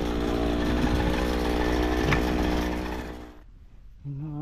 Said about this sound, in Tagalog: Grass cutter tayo.